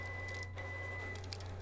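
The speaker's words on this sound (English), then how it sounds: "You can hear the printer in the background." A printer runs steadily in the background, a continuous mechanical hum with a sustained tone and faint rhythmic ticking, fairly quiet and even throughout, with no voices.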